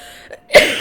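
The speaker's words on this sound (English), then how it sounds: "Sorry for the cough there, I might be sick." A single sharp, close cough bursts out after a brief quiet moment, followed by a second rough cough.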